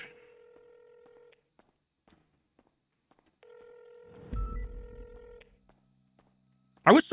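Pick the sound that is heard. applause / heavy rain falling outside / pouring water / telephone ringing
telephone ringing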